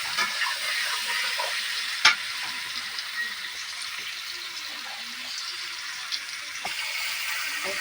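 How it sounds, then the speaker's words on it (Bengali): Paneer lightly frying in a pan gives a steady, close sizzle and hiss throughout, with a couple of sharp utensil clinks against the pan. "বেশি ভাজবো না হালকা ভেজে নিই"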